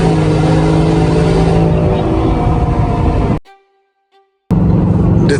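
A Whipple-supercharged Ford F-150 pickup engine revs hard with a loud, close, sustained roar and supercharger whine, then cuts out abruptly into near silence before the roar returns.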